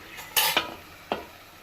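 Cardamom tea being stirred in a pot: three quick scraping clinks of a spoon against the metal pot, near and clear over a quiet kitchen background.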